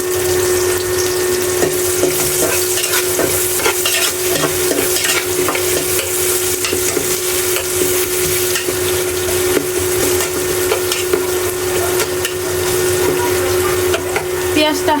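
Chopped onions sizzle and fry in hot oil in a wok while being stirred, a loud, close, continuous crackle with scraping stirs and a steady background hum throughout.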